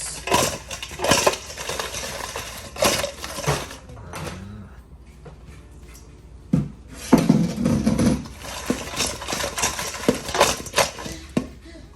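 Chicken wings being tossed in lemon pepper seasoning, heard up close as repeated rattling, clattering shakes with a brief lull midway before the tossing resumes louder and busier; no one talks.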